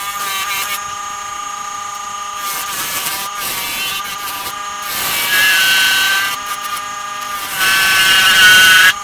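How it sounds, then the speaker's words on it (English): A wooden box lid spins on a woodturning lathe as a bowl gouge cuts it, a loud steady motor whine with rising scraping and shaving bursts that grow louder toward the end, with no speech. "So now I'm gonna do the top. We'll see, I may start with the bowl gouge"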